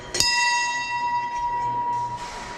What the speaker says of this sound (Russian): и ударить в колокольчик.